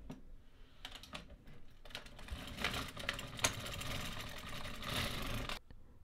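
A knitting machine working rows of a fingerless mitten with ribbing, with the carriage sliding across in a continuous mechanical whirring and clattering sweep, fairly close, then stopping abruptly near the end.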